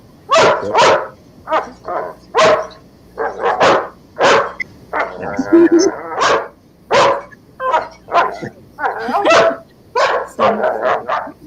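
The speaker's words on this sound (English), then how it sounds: "Oh, Steven's dog." A dog barks repeatedly and loudly close by, sharp barks in an irregular rhythm broken by brief yips and whimper-like sounds.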